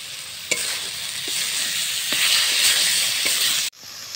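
Ground spice paste and Kashmiri chilli powder fry in oil in a pan for oil koi, a steady broadband sizzle with a few clicks of stirring, ending abruptly near the close.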